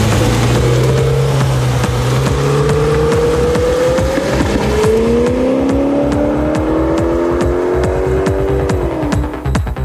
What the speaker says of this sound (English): This tuned family sports car is aiming for more than 300 km/h.